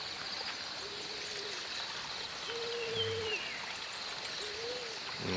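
Soft, repeated hooting calls from a bird sound at a steady pace over a constant wash of flowing water and high insect-like hiss.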